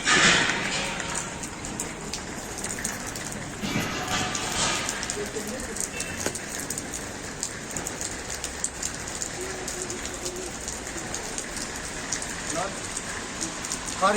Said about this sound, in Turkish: Yine yağmur yağmaya başladı. Karla karışık yağıyor abi.